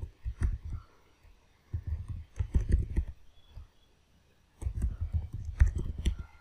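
Password being typed on a computer keyboard while setting up a Linux Mint 21.3 user account, heard as close, quick bursts of soft key clicks in three clusters separated by short pauses.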